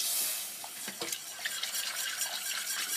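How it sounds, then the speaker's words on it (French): A spoon stirs tomato sauce in a pan after water is poured in, giving soft wet scraping and swishing strokes, a few louder clinks and splashes near the start, fairly quiet and close. "Voilà, donc on va mettre de l'eau. Voilà, et on mélange bien."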